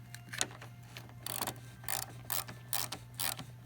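An 8mm ratchet clicks in short, quick bursts while snugging a battery cable onto the terminal of a 2007 Mercury Grand Marquis. The clicking is close and comes in about eight rapid strokes over a faint steady hum, with no voices.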